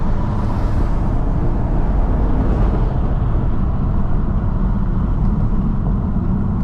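A green Kia Stinger engine revs loudly and steadily up close, a dense continuous roar held at high RPM for several seconds with no voices over it.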